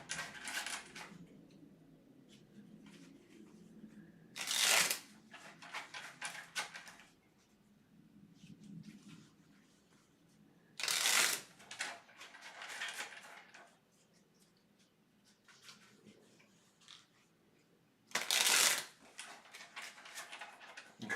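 Tarot cards being shuffled, three crisp riffling bursts spaced several seconds apart, close and clear over a quiet room.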